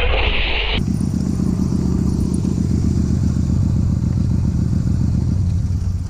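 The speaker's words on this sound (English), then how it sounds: "That awkward moment when your bike turns off in the middle of a busy intersection." A motorcycle at a busy intersection, its engine running as a loud, close, steady rumble with rattling clatter for several seconds after a brief noisy start, fading slightly at the end.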